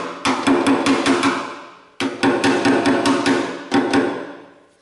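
Metal hammer blows beat out a rusted car body panel during bodywork repair, a fast run of sharp ringing strikes in three close bursts with brief pauses between them.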